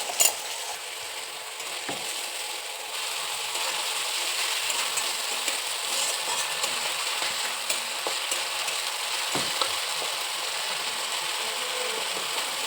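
Onion paste and ginger-cumin paste spices fry in a pan over a medium flame, a steady broad sizzle running throughout with occasional stirring scrapes and clicks, close and fairly loud, no voices.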